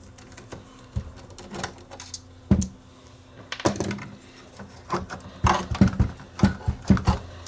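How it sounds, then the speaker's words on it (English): Screws being taken out of the tape transport of a Tascam DA30mk2 DAT deck that will not accept tapes, heard as scattered close metallic clicks, taps and small clatters on a workbench with quiet gaps between them. "So I'll pull the screws that hold the transport in place."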